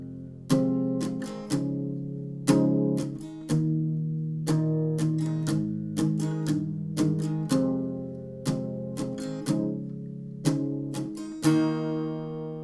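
Acoustic guitar strums the easy part of a song at a slow practice pace, distinct chord strokes ringing out one after another, close and with no talk.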